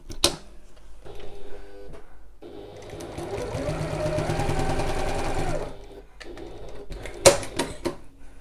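A home sewing machine stitches a seam on a Stanley satchel at construction stitch length: a sustained mechanical whirring run of a few seconds, framed by short clicks and handling noises.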